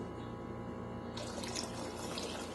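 Cold water starts pouring about halfway through, a steady splashing stream close by after a quieter start, while making lavender lemonade.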